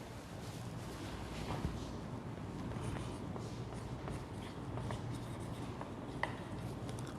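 Pen writing the letters A and B during a math lecture, a faint steady scratching with small taps under a constant background hiss, no talking.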